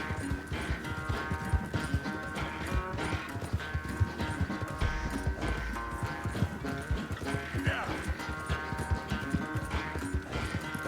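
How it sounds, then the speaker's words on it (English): A horse gallops in the video game Red Dead Redemption 2, its rapid rhythmic hoofbeats running steadily and fairly loud throughout, layered with game music and an occasional whinny. "Tá muito possante esse cavalo. Tá andando muito."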